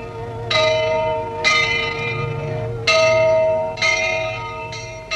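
A monastery church bell at Studenica rings for vespers, with loud, resonant strikes about every second or so, each leaving a long humming decay that overlaps the next.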